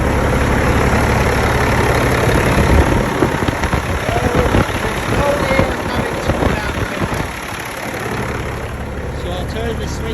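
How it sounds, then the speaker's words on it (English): A Freightliner truck engine idles with its engine fan turning, a loud, steady low rumble and whir close by that eases slightly toward the end. "so fan is turning"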